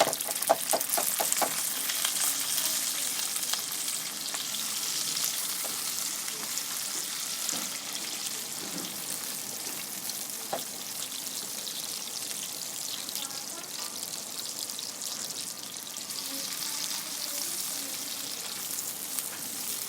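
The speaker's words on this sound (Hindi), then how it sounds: "प्याज को दोस्तों अच्छे तरीके से भून लेंगे" Onions frying in hot ghee for chicken korma, a dense continuous crackling sizzle close up, with a few stirring clicks early on and steady loudness throughout.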